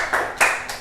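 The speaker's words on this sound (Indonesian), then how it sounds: "Tepuk tangan untuk kelompok 1" A classroom of students claps briefly for group 1 after a geometry presentation, a couple of quick bursts of hand claps lasting under a second.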